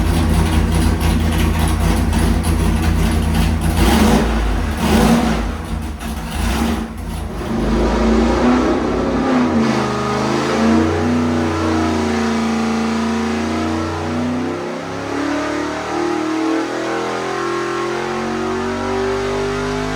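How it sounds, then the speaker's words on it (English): A 406 cubic-inch small-block Chevy nitrous street engine with a 750 carburetor pulls hard on a dyno, roaring loud and close as the revs climb, then drops back to a rough, lumpy idle. "We're gonna make one more pull with Addi's 750 and see what it does"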